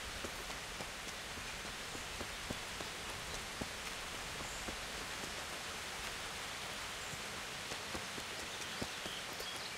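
Steady rainfall in the video game Kingdom Come: Deliverance, hissing evenly, with faint scattered drops and taps standing out now and then; no voices, a soft continuous wash.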